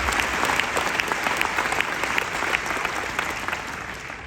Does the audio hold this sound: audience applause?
yes